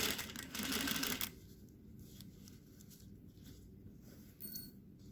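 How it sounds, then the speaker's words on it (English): A sewing machine stitching a French dart in fabric, a quick burst of loud rapid stitching followed by quieter intermittent whirring and soft clicks as the fabric is guided, close and alone. "I'm going to start sewing"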